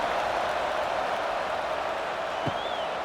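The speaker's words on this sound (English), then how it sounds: "this crowd is buzzing after that last score" Stadium crowd buzzing in EA College Football 26 during a Michigan State at USC game, a steady broad wash of distant cheering and murmuring that holds even throughout, with no single voice standing out.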